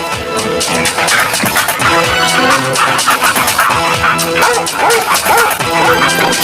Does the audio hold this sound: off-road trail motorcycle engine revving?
no